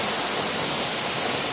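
Steady roar of the Cascada La Alemana waterfall near Cali, Colombia, a dense broadband rush of falling water heard close and loud, continuous with no voices.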